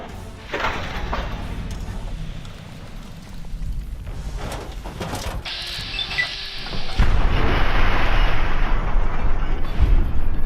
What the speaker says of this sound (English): Did I just kill him?